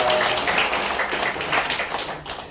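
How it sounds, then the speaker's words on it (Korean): A church congregation breaks into brief, moderately loud applause after a choir hymn, a dense wash of clapping that fades slightly toward the end. "다시 한번 하나님께 영광의 박수 올려드립니다."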